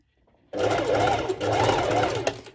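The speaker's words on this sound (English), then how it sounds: "We'll be sewing 2 and 2, so there will be practically 4 layers of fabric together." A sewing machine stitches through four stacked layers of fabric for high-waist ruffled bottoms, running in a steady, close, loud mechanical whir with a rhythmic rising-and-falling hum and brief pauses.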